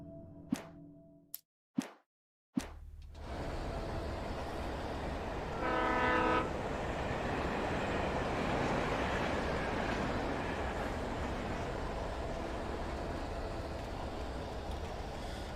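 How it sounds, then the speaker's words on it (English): In the video game Alan Wake, a big train rumbles past below with a continuous loud roar, a short horn blast partway through and a sustained steady wash of rail noise after a few sharp knocks at the start. "Big ass train down there."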